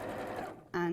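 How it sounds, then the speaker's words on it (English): A sewing machine stitches fabric, its motor starting up as a steady, close, humming whir after a brief stretch of softer sound that may include a voice. "so I'm just machining down, reverse stitch and creating the channel"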